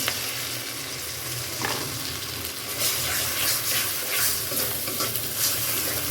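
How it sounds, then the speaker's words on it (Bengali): An egg fries in a pan with cumin powder, giving a steady close sizzle with occasional stirring scrapes throughout, no voices. "এটাকে একটু ভেজে দিয়ে দিলাম একটা ডিম"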